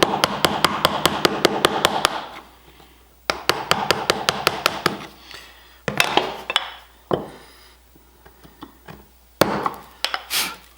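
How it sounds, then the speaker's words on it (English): Steel chisel struck with a mallet while paring wood for a hand-cut bowtie inlay, with rapid bursts of sharp taps in quick runs separated by short pauses, close and loud with no talking. "you can use the angle of your chisel with the bevel down to pare that out nice and flat"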